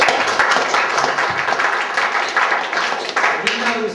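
A room full of people gives a round of applause for a man at a group presentation, a steady dense patter of many hands with speech-like voices mixed in, fairly loud and continuous.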